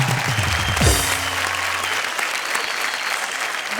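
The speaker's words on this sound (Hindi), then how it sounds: "भाई ताली बजाओ" Applause from the audience at a Hindi comedy and poetry stage show, a dense sustained clatter of many clapping hands that holds at even loudness throughout, with a brief voice rising over it near the start.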